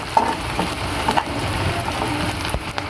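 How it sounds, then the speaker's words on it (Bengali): Onion and chopped green chili fry in a pan for a rui fish roe chorchori, a close, steady sizzle broken by the scrape and clatter of stirring. "তারপর এটাকে আবার একটু নাড়াচাড়া করে নিচ্ছি"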